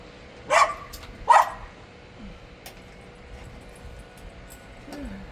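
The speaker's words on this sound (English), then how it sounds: "I don't know what she's barking at." Two short, sharp dog barks close by, followed by a quiet stretch with faint background noise and a soft whine near the end.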